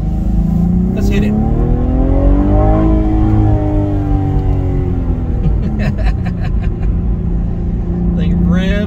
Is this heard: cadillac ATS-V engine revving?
yes